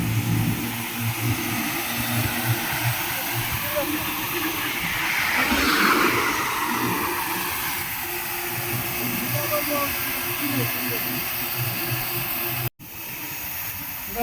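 A car drives along a road past Mawa station near the Padma Bridge, with a continuous engine drone and road hiss swelling midway as it passes. People talk over the noise.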